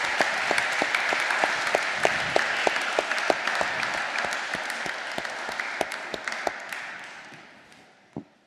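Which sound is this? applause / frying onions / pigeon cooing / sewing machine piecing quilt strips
applause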